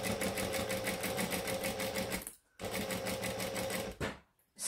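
Sewing machine stitching a zipper pouch, fast rhythmic clatter running steadily in two bursts with a short pause between them, close and clear.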